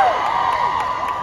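Convention audience cheering and screaming, a steady roar of crowd voices with high shrieks swooping over it and a few claps scattered through.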